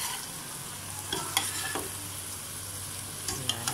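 Bitter gourd sautéed with egg sizzles softly in a pan, with a few scattered scraping clicks from stirring breaking through the quiet, steady frying hiss.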